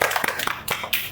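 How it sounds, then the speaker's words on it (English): Preschool children clap for a classmate in a classroom: a brief burst of a few scattered, uneven hand claps close by, with no talking. "Clap for her."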